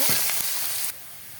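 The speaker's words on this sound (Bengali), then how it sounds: "এবার পেঁয়াজটা ভালো করে ভেজে নেব" Chopped onions with turmeric sizzle loudly in hot oil, a bright, close, steady hiss that cuts off abruptly after about a second.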